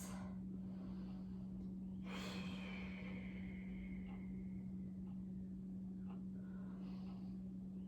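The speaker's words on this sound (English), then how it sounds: "Take a couple deep breaths." Someone resting in child's pose during an at-home bodyweight workout takes slow, deep breaths, with soft airy inhales and exhales, one fuller breath standing out, all over a steady low electrical hum.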